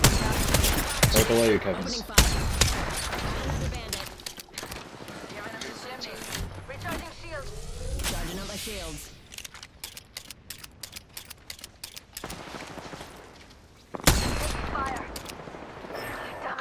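Rapid gunfire bursts from a first-person shooter video game crackle loudly in dense volleys amid other game effects, while players talk over the action throughout.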